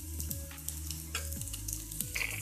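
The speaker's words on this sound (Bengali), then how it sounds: "বড়া দিয়ে দিচ্ছি, এটাকে সবগুলো ভেজে নেবো" Bora fritters frying in hot oil, a steady crackling sizzle with a low hum underneath and occasional sharper pops, close and fairly even throughout.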